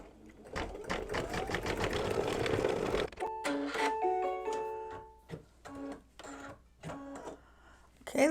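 An embroidery sewing machine stitching a mug rug in the hoop with white thread: a busy rapid whirring stitch run, then stop-start bursts with tonal motor whines and pauses between, close by, no talking.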